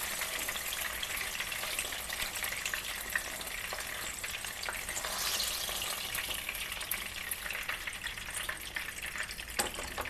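Drumstick pieces for pickle fry in hot oil with a steady, dense sizzle that runs close and unbroken throughout, with no talking.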